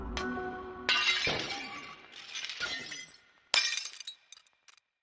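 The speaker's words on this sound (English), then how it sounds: "went to his front door, and smashed every glass panel" Glass panels of a front door shattering under blows from a fireplace poker: several loud, close crashes with bright tinkling debris, followed by scattered falling shards trailing off.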